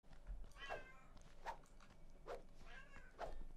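A cat meows four times at roughly even intervals, close and fairly clear, each call a short rising-and-falling cry over a quiet background.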